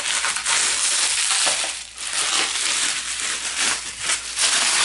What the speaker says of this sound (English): So let's cut the bubble wrap and see exactly what this is.